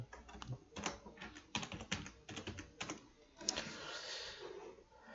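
Typing on a computer keyboard, rapid clustered key clicks in uneven bursts, close and fairly quiet, thinning out toward the end.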